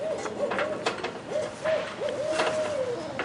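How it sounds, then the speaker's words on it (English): An owl hoots several times in a clear, nearby series of short tonal calls ending in one longer drawn hoot, heard from a ladder at a house gutter with light rustling around it. "Frick an owl."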